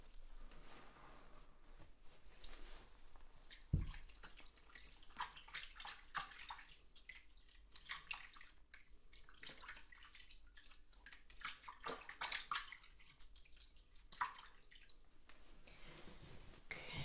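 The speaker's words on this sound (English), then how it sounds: "I'm just going to rinse my hands and then I'll rinse yours." Hands being rinsed in a bowl of water, soft splashes, trickles and drips scattered across a quiet, close-up scene with one sharper knock near the start and no talking.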